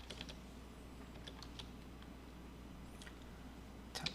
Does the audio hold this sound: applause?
no